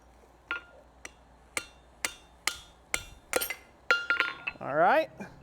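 A blacksmith's hammer strikes hot metal on an anvil while forging, about ten sharp ringing taps at a steady pace that quicken into a cluster near the end, close and loud.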